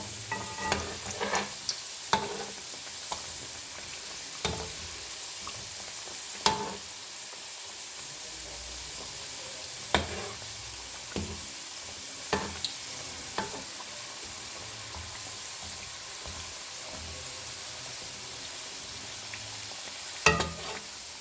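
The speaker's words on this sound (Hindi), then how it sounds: "ये देखिए ये इस तरीके से मैं इसको फ्राई करूँगी।" Round samosas with potato and cheese filling deep-frying in oil over a medium-low flame, a steady soft bubbling sizzle with occasional louder clicks and knocks from the utensil against the pan.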